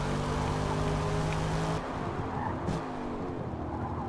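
A Corvette in the Forza Motorsport racing game holds a loud, steady engine note, then an abrupt cut and drop in pitch marks a quick gear change before the engine pulls again.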